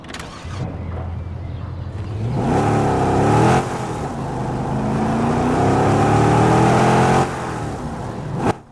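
Chevrolet Camaro engine in the mobile game Car Parking Multiplayer 2, starting up with a short crank, then settling into a loud, close idle before revving up in a rising, sustained drone and dropping back, with no talk over it.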